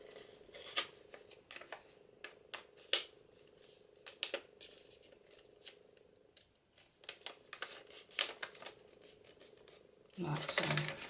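Vellum paper is folded and a crease is reversed for a pocket folio, giving crisp crinkles, taps and soft rustles up close in irregular bursts, with a louder shuffle near the end.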